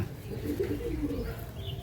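A female pigeon coos in low, soft, rolling phrases at a pigeon sale in Hooghly. The murmuring calls are steady and close, with a faint higher chirp near the end.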